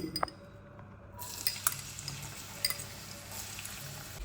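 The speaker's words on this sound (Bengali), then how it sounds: "এটা কিন্তু সর্ষের তেল গরম করতে বসিয়ে দিয়েছি এবার আমি এর ভেতরে পেঁয়াজ কুচি দেবো" Chopped onion dropped into hot mustard oil for prawn chops, a steady low sizzle after a sharp start near the beginning, with faint clinks of utensils over it; no talking.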